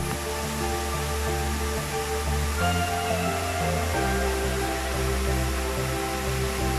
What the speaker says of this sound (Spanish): estamos frente al pozo de la parte baja de la cascada